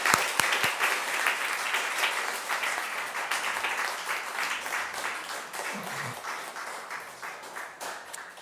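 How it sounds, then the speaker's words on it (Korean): A church congregation applauds its teachers at a Sunday worship service, steady broad clapping filling the room for about eight seconds with no talk over it. "우리 교사들 위해서 큰 위로와 격려의 박수로"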